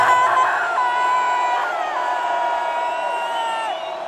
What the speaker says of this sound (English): You guys are some good singers.